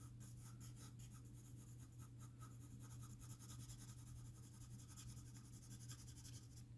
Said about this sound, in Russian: я слегка давлю на карандаш